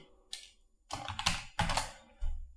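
Keys clatter on a computer keyboard while text is typed into an Adobe Premiere editing field, coming in several short bursts of close, crisp tapping with brief pauses between them.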